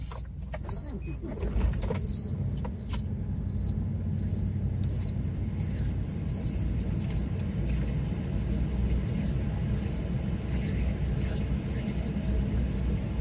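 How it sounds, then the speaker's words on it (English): A 2024 International truck's diesel engine runs steadily after being restarted during an in-cab inspection, a constant low rumble close by with a repeating high beep from the cab and brief rattles near the start. "Next, I'm going to turn my truck back on and do my tug test."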